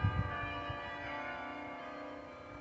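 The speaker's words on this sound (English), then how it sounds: "sit and listen to birds and the bells" Carillon bells at Bok Tower Gardens ringing with sustained, resonant tones that hang in the air after a few struck notes at the start, calm and outdoors.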